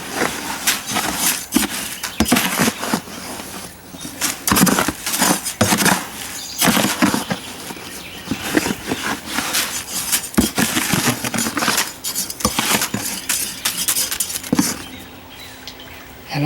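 Homemade pepper and tomato fertilizer being mixed by hand, a continuous rustling, pattering shuffle of dry granules stirred and shaken, close and fairly loud, with no voices.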